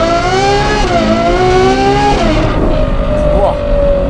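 A Ferrari 812 GTS convertible with a Novitec exhaust, roof down, accelerates hard, its loud, close engine note climbing steadily in pitch before easing into a lower, sustained drone.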